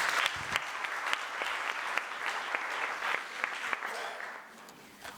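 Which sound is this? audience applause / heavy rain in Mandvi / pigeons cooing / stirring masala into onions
audience applause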